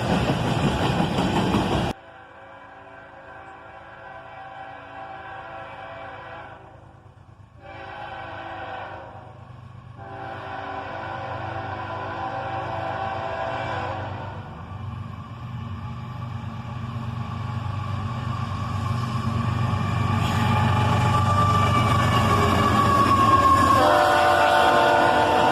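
A CSX freight train with an ES44ACH locomotive running as the distributed power unit rumbles past with a steady engine drone and rolling wagons, building louder toward the end with a brief whine.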